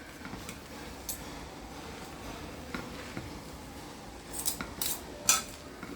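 Chicken noodles loaded with vegetables being tossed with tomato sauce in a pan, giving repeated metallic clinks and scrapes of a utensil against the pan, sparse at first and then quicker and louder toward the end.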